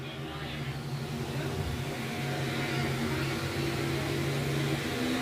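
E-modified dirt-track race cars running a speedway feature at I-35 Speedway in Winston, Missouri, a dense, steady engine roar with layered droning tones, with commentary faintly underneath.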